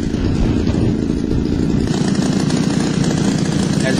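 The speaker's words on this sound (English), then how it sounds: "Now we're going to try to tune this motor up a little bit." A model airplane glow engine fitted with a single propeller runs steadily during tuning, a loud close buzzing drone that shifts slightly in pitch partway through.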